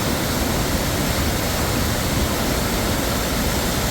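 Mondhikunnu waterfall deep in a forest during the rainy season, a dense and constant roar of falling water that is loud and close, with no voices.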